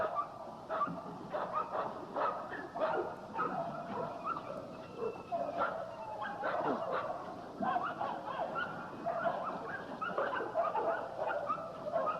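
A hyper dog in a yard barks and yips continuously in quick, excited bursts, close and lively, with occasional whimpers mixed into the steady stream.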